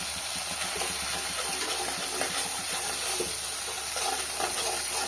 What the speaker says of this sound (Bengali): এবার আস্তে করে মশলাটা খুব ভালো করে একটু লো ফ্লেমে মশলাটা আস্তে করে ভালোভাবে কষাবো